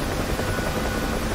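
Rotor of a Huey helicopter in the combat flight simulator DCS, a steady dense thrumming drone heard alone at constant loudness with no voices, gunfire or other breaks.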